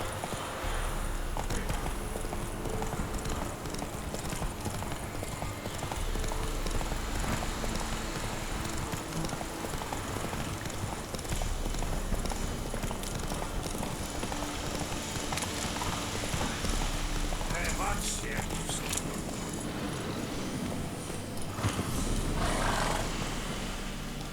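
Horse hooves clip-clopping at a steady, continuous pace while riding in a video game, loud and close throughout with game ambience beneath.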